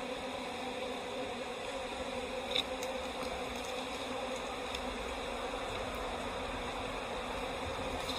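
Honey bees buzz steadily around an open hive during requeening of a subarctic colony, a dense continuous drone with occasional louder passes of single bees close by.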